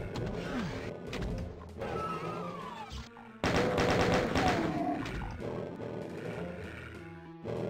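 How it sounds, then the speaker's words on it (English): Chain gun firing in The Ultimate Doom video game, a rapid rattling burst at mid-clip among growling monster roars, thuds and other game effects, with no talk. "So let's prepare the chain gun."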